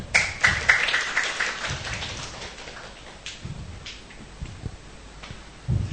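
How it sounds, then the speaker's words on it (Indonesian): An audience at a product presentation claps in a scattered burst that fades over several seconds, close-miked and moderately loud. "Tepuk tangan."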